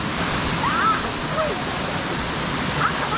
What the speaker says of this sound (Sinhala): වතුර පාර නියමයි ක්ලීන්